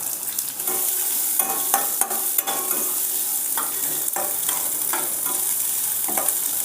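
Onions frying with cumin, urad dal, chana dal and crushed garlic for beetroot poriyal, a bright continuous sizzle broken by scraping stirs, close and without talk.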